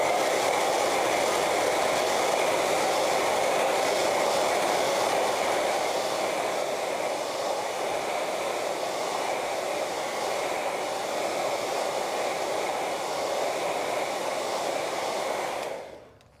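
Hair dryer blowing on a winter aspen painting, a loud continuous whooshing hum held steady for about fifteen seconds before cutting off abruptly at the end.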